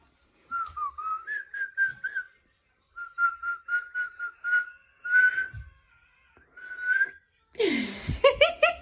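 A woman whistles close by in short, tuneful phrases, mostly steady mid-pitched notes with brief pauses, directed at her American Staffordshire terrier at home; near the end a louder, rougher vocal burst breaks in.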